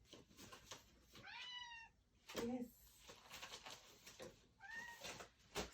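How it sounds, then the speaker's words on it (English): A house cat meows several times in rising and falling calls, fairly close, with a short spoken word amid the cries. "speaking of the cat, she's decided to say hello"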